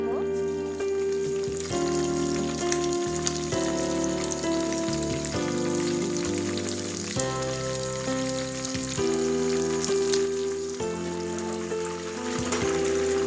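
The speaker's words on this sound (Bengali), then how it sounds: "ললিপপগুলো আমার ভাজা হয়ে গেছে" Chicken lollipops fry in a kadai over a medium gas flame, giving a steady, continuous sizzle that runs the whole time beneath fairly loud background music.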